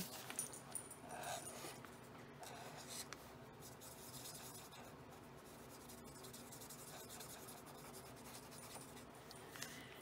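A Papermate pen scratches across a thin bible page, rubbing back and forth steadily as it draws a heart and fills it in. The scratching is close, continuous and faint, with no talking.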